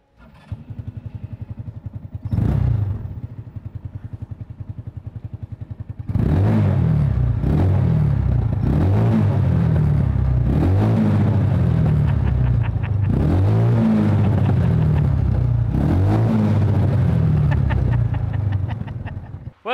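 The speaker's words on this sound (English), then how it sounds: "Massive one-cylinder engine." A road-legal go-kart with a large one-cylinder engine idles with a fast, steady thumping, then revs up loudly in repeated throttle blips before settling.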